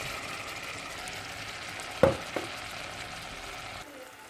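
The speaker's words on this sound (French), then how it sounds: "Donc là on mélange bien le beurre et la farine." Butter and flour cooking in a saucepan for a roux, stirred together with a soft sizzle and a couple of brief scraping knocks from the stirring, moderately faint and steady.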